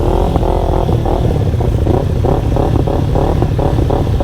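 Kawasaki Ninja 300, KTM RC 390 with quick shifter and BMW G310 motorcycles idle and rev loudly together at close range, a steady rumbling engine drone with rhythmic pulsing throttle blips throughout.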